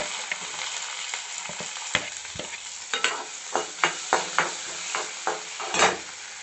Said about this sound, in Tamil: இப்போது பட்டை சோம்பு பொரிஞ்சிடுத்து. அடுத்தது ஆனியனை சேர்த்துடலாம்.